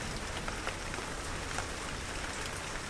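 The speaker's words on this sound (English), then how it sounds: "A spring shower occurs as expected." Spring rain shower in the Wuyi Mountains, a soft, even patter of drops hissing steadily on surfaces, faint and continuous with no voices.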